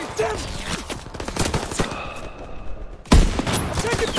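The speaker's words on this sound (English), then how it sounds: "I'm taking fire!" Rapid gunfire in the World War II video game Call of Duty WWII, dense, continuous bursts crackling throughout with a brief lull before a loud renewed volley.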